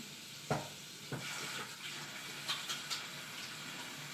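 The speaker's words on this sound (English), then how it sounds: "washing up to our elbows like we good doctors" Tap water runs steadily as hands are washed up to the elbows in a home kitchen, a faint continuous splash with a few sharper splashes and knocks near and at moderate volume.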